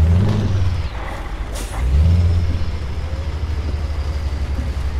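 Scania V8 Euro 6 truck with a stock sound mod in Euro Truck Simulator 2, its deep engine rumble rising and falling as it revs and shifts, with a sharp air-brake hiss partway through, loud and close.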